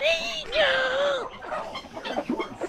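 A chicken lets out a loud, drawn-out squawking scream up close, its wavering call dominating the first second before trailing into softer clucks and scattered background noise in a rural backyard setting.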